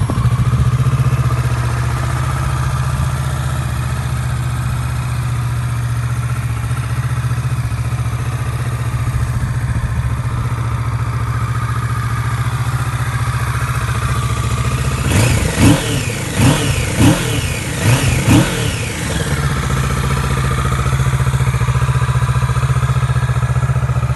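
Kawasaki Ninja 650 motorcycle engine idling steadily at close range for a long stretch, then a few sharp throttle blips revving up and dropping back before settling into idle again.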